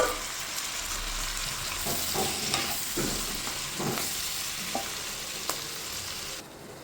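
Diced ripe tomatoes sizzle and fry in a pan, a steady close hiss broken by scraping stirs, with no talk over it.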